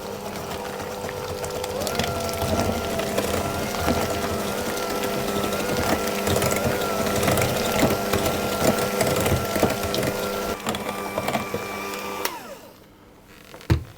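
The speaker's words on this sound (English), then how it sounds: "about a tablespoon of flour, and I'll mix that in and do the same with the other 2 eggs" Electric hand mixer beating eggs and a spoonful of flour into Madeira cake batter, a steady loud motor whir with changing tone as it churns, running continuously for about twelve seconds before switching off near the end.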